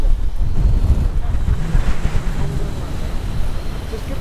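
Wind buffeting a microphone on a fishing pier, a loud continuous low rumble with waves or surf beneath, close and steady throughout.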